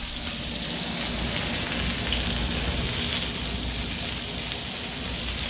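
Green peppercorns frying in a hot pan alongside a rack of lamb, giving a steady, close, broadband sizzle with a dense crackle that holds evenly throughout and has no talking over it.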